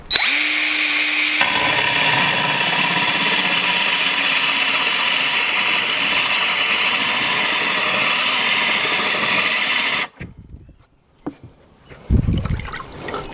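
A Rubi cutter bores a hole through wet ceramic tile, a loud steady grinding drone with water trickling, running continuously before cutting off abruptly near the end, followed by brief clatter and handling.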